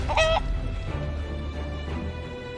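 Chickens clucking in the fantasy role-playing game Divinity: Original Sin 2, a short burst of fowl calls near the start followed by dense game sound effects, with no talking.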